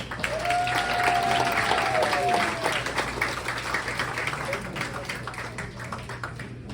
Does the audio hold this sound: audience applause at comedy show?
yes